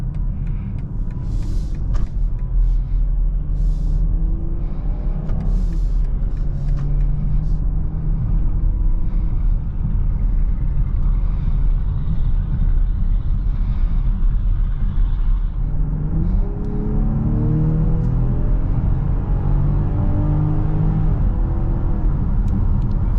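A 2023 BMW X5 with its 3.0-litre twin-turbo inline-six and 8-speed automatic accelerates in Sport Plus mode, a steady muffled engine rumble and road drone heard from inside the quiet cabin, rising in pitch through the gears.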